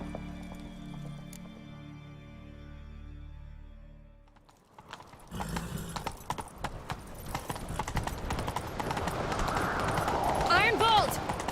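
Rhythmic hoofbeats of a galloping horse in the video game The Witcher 3 pound steadily in the second half, loud and close, with music and game effects swelling around them.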